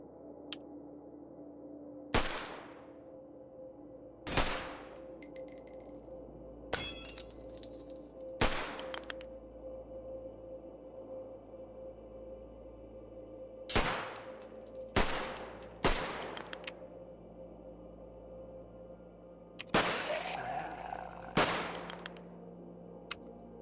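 Gunshots in the survival video game Cataclysm: The Last Generation, fired at a hunter creature: sharp, isolated cracks spaced irregularly a few seconds apart over a quiet hum, some in quick pairs.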